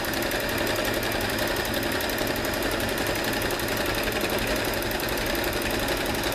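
A Janome CT2480 sewing machine stitching steadily, its fast, even mechanical whirring and ticking continuous and close throughout, with no voices.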